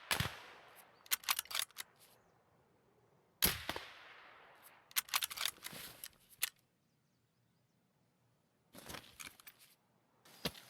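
Gunfire in the video game Escape from Tarkov during a headshot kill: sharp, loud shots in short bursts and single cracks, separated by quieter stretches and a silent gap.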